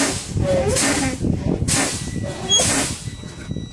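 Truck air brakes on a CDL Class A rig hiss in several sharp bursts as the brake pedal is pumped inside the cab, each release loud and close with brief pauses between.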